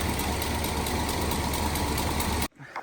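A Winnebago Brave motorhome engine idles steadily after a fresh oil change, a dense mechanical drone with a faint valve tick running through it, close up, then cutting off abruptly near the end.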